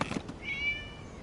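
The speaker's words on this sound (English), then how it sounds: "It was just a cat." A single short cat meow from the video game Genshin Impact, moderately loud and close, following a brief burst of ambient game noise.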